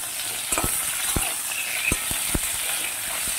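Pointed gourd pieces, slit and halved, go into a pan of frying potatoes, setting off a steady loud sizzle broken by several sharp stirring clacks.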